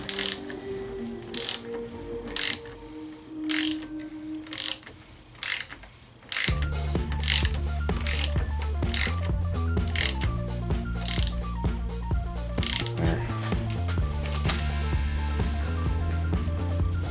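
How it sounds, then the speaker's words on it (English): A hand ratchet clicks in rapid bursts while turning over a Mazdaspeed CX7 engine by hand for timing. At first the clicking comes in short separate pulls, then it turns into a steady, continuous clicking with a low mechanical rumble underneath, loud and close. "rotate it over 2 times and see if you can get your timing tool to line up in the end"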